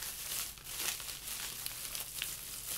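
A plastic packet from an AliExpress order crinkles and rustles steadily as it is handled close up, with small sharp crackles scattered through the sound.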